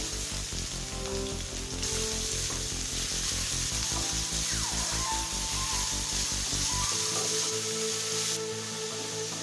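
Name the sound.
onions frying in oil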